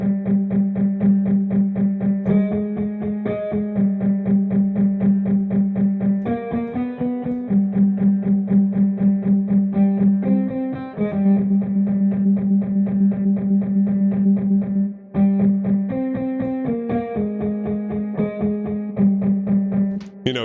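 A sustained synth tone from the Gemina cinematic, dystopian sound instrument, run through a vintage two-band EQ with a boost near 200 Hz, giving a thick, buzzy, distorted drone that shifts pitch in steady steps and plays loud with no talking.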